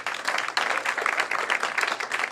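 Audience members aged 50 and over clap at a comedy show, a dense, steady burst of many hands continuing throughout at moderate level.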